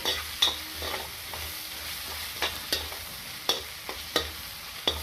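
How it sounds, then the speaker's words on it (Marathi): Chopped onion with a few peanuts fries in ghee, giving a steady soft sizzle broken by sharp spatula scrapes and taps at irregular intervals, close by and with no one talking. "आता आपला कांदा छानपैकी फ्राय होत आलेला आहे"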